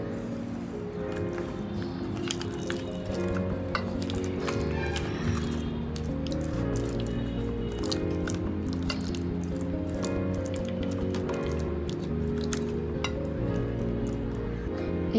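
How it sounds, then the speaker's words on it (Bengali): Wet squelching and dripping as spice paste is rubbed by hand into pomfret fish for an air-fryer roast, a steady close run of sticky squishes over a faint music bed. "মশলাটা ভালো করে মাখানো।"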